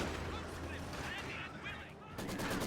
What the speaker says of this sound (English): And this Maxim still firing away at that house.